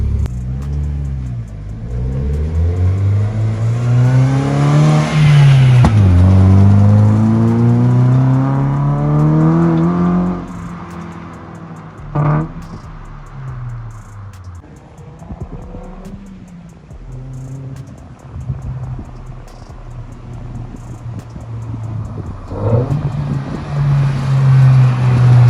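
A Datsun 620 pickup with a swapped engine on new tires, heard from inside on a test run, revs up through rising engine sweeps, shifts, and pulls again, loud and close, with the engine roaring and easing between gears.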